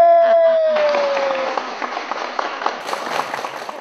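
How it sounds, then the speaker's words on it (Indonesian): Studio audience applause for Ria Ricis, rising after a sustained musical tone fades and then carrying on as scattered, lively clapping with crowd noise. "Tepuk tangan yang meriah buat Ria Ricis."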